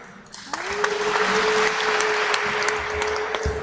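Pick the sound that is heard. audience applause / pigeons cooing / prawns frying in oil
audience applause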